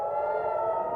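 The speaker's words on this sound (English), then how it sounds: "As sirens wailed, missiles arced over the Lebanon-Israeli border." An air raid siren wails near the Lebanon-Israel border, a steady, sustained tone heard alone at moderate loudness for a brief moment.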